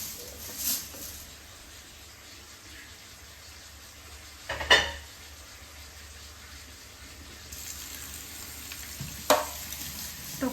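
Rice dry-frying in a pan is stirred nonstop, producing a soft steady sizzle with occasional louder scraping and clinking strokes of the spoon against the pan, close by and with no voices.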